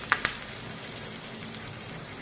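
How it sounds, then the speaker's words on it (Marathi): A few curry leaves dropped into hot tempering oil with asafoetida, a couple of sharp crackling pops at the start, then a faint, steady low sizzle. "आता या फोडणीमध्ये अगदी 2-3 पानं मी कढीपत्त्याची घातलेली आहेत,"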